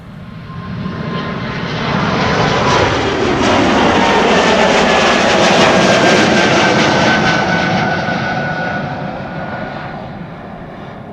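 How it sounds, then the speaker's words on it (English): An Airbus A220-300 jet on its takeoff roll at Amsterdam Schiphol Airport, a loud, steady engine roar that swells, holds for several seconds and then eases as it passes, with a rising whine over the rumble. "Now on the roll. Another A220-300 or a Bombardier C-Series 300."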